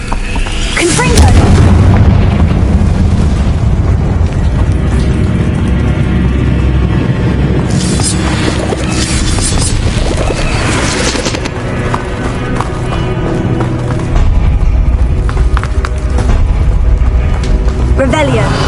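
Confringo blasting spells go off in a Harry Potter video game: loud, continuous booming explosions with rumbling debris that fill the whole stretch, while a voice repeatedly calls out spell names over the blasts.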